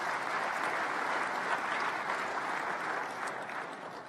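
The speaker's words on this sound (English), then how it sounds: "Please give them a round of applause." Steady applause from a large conference audience at the closing of Transform Africa 2017 in Kigali, Rwanda, a soft, even wash of many hands clapping at a distance, sustained and slowly easing off, with no talking.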